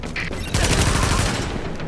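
Bursts of gunfire in the video game The Division, a rapid fusillade of automatic shots that crackles loudly and densely for about two seconds, with no voices over it.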